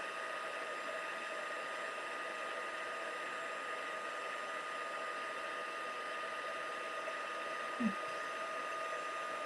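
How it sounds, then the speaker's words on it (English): A heat tool blows a steady, loud whirring hum throughout while heat setting embossing powder in a stamping craft session. There is a single small bump near the end and no talking. "So I'm just going to heat set that."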